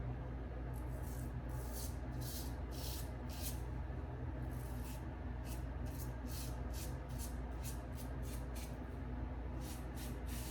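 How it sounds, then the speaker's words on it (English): Carbon CX-316L safety razor scraping across the grain, a series of loud, rhythmic rasping strokes repeating steadily through, close up over a constant low background hum. "It always takes me back how loud this razor is"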